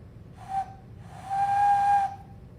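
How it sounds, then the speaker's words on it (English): A homemade wooden whistle is blown twice, a short toot followed by a longer steady breathy tone, clear and close with a quiet gap between them. "So you can see mine whistled."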